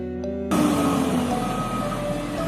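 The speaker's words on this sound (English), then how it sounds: "Dump truck." A dump truck backs up with a repeated reversing beep over a loud, rough diesel engine rumble, heard close by with no talk.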